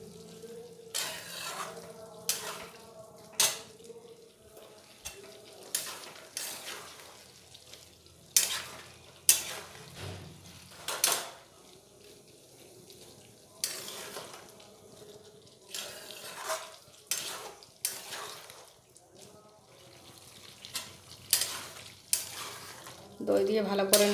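A spoon stirring chana masala in a pan after sour yogurt has been added, producing intermittent close scraping and clattering strokes with light sizzling between them, alone without voices.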